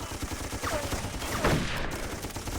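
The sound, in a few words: machine gun fire in the video game Darkest of Days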